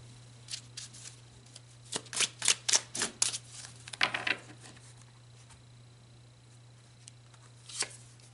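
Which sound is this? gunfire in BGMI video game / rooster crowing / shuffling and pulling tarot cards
shuffling and pulling tarot cards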